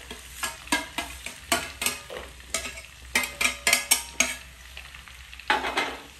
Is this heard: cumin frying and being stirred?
yes